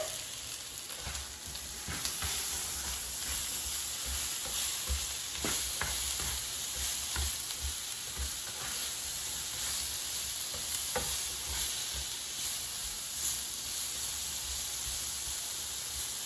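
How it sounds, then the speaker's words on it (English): Zucchini and squash sizzle and hiss steadily in a frying pan, sprinkled with Italian seasoning, while a utensil stirs them with scattered scraping clicks and soft bumps throughout; no one talks. "And now let's mix it."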